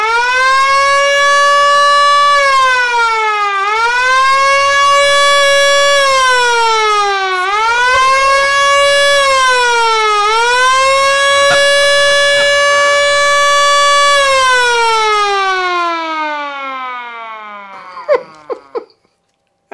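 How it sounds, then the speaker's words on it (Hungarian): A loud toy siren wails in repeated rising-and-falling sweeps, about four long cycles, before cutting off with a few clattering knocks at the end. "Figyelem, halláskárosodásra felkészülni, indul a sziréna."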